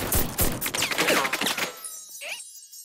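Rapid bursts of cartoon gunfire from a Zig & Sharko animated episode crackle loudly and densely for about a second and a half, then trail off into a few sparse shots and a brief whistle.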